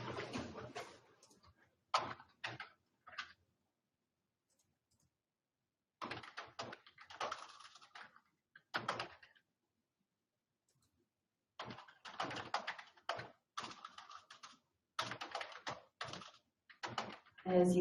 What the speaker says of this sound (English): As you see, I gotta work on my typing just a little bit.